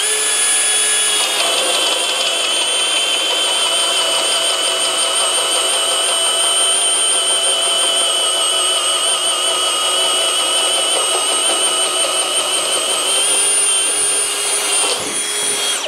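A Flex right angle drill runs in low gear with turbo off, drilling in one long, loud, steady whine with a high motor tone that holds for about fifteen seconds before stopping.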